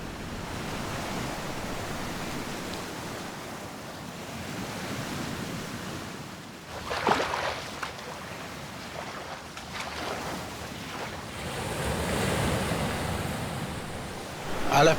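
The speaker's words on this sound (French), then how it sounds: "la marée recommence à monter" Ocean waves washing in as the tide rises at dawn, a steady rushing surf that swells and recedes in broad surges, with some wind noise across the microphone.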